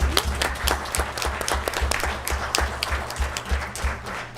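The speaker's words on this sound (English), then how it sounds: "I'd like them to stand up for a minute, at least, and receive a round of applause." A round of applause at a county Board of Supervisors meeting, a moderate room of people clapping steadily with crisp individual claps audible against a low background hum.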